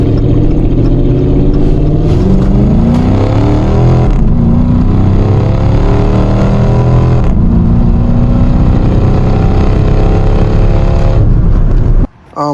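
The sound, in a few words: Dodge V8 car engine revving with exhaust system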